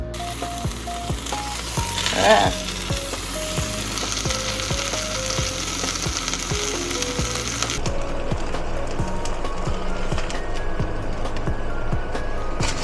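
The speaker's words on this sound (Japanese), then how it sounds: "でこのフライパンで焼きます" Food, a cheeseburger patty, sizzling steadily in a frying pan at home, with clicking and clattering of utensils and a brief louder scrape early on.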